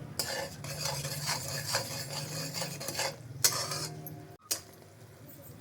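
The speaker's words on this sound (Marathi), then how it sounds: "इकडे पहा ह्याला कशी उकळी येत आहे" Melted jaggery bubbles in a pan while a spoon stirs and scrapes through it, with steady soft bubbling and scraping, a few sharper utensil clinks, and a brief gap near the end. The jaggery is being cooked for sesame laddoos.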